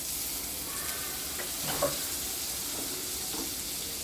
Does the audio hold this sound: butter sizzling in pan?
yes